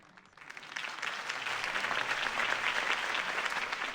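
Crowd applause following a campaign speech in the Batman Telltale video game, swelling quickly from a quiet start into a sustained, dense wash of clapping that holds steady throughout.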